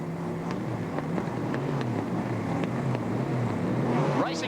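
Sports sedan race cars, among them a Falcon and a Mazda RX-7, getting away at the start of a race at Amaroo Park Raceway, a steady distant engine drone with rising revs and wind across the whole stretch.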